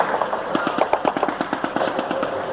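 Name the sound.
gunfire during combat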